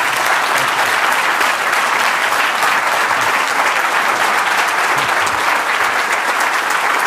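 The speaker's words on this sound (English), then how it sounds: "Mike deserves a round of applause as well" Loud, sustained applause from a large audience at a leadership event, a thick, steady wash of clapping hands that holds at full strength from start to finish.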